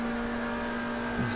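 McLaren GT4 race car engine at Watkins Glen in a racing video game, a steady droning hum holding one pitch throughout, moderately loud with a brief rise near the end.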